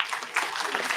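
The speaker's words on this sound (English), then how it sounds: "round of applause for this boy here" A short burst of applause from students at a college induction program, dense steady clapping filling the moment, fairly close and moderately loud.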